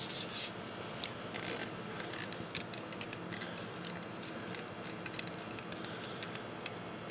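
Tape on a golf club shaft being scraped and smoothed down, a faint continuous rubbing and scratching close by, with a few light ticks and no talking.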